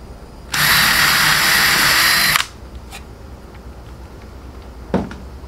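A power drill bores a pilot hole through a piece of wood, a loud, close whine lasting about two seconds that stops abruptly, followed by faint knocks.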